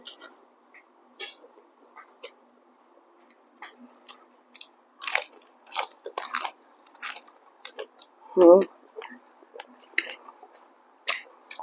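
Crunchy bites and chewing of Thai papaya salad eaten with khanom chin rice noodles and fresh raw vegetables, close to the mic, in scattered bursts with one louder crunch, soft murmuring between bites.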